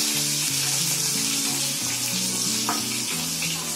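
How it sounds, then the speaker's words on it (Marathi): Green chillies frying in oil in a pan for a spicy karanji filling, a dense continuous sizzle heard close and at steady loudness, with soft music in the background. "आता त्याच्यामध्ये मिरची टाकते. मिरची पण चांगली आहे ना भाजायला द्यायची."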